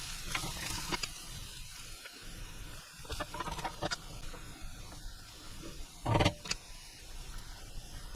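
Diced onion fries slowly in a pan over low heat, giving a faint, steady sizzle with a few soft clicks and one brief clatter near the end.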